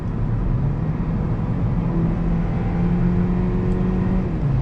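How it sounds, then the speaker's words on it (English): A 2020 Hyundai Ioniq plug-in hybrid on eco tires is driven briskly through a roundabout, its engine humming steadily with a rising, whirring drone under constant road and cabin noise. "Let's drive this Ioniq sporty a bit here. Let's toss it through this roundabout, see how it does."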